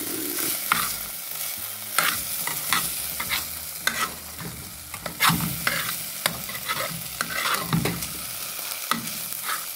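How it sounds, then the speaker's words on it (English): A Hawaiian stir fry sizzles in a pan as a constant hiss, broken by repeated sharp clacks and scrapes of a utensil against the pan, close and with no speech. "right now, I'm busy with my stir fry."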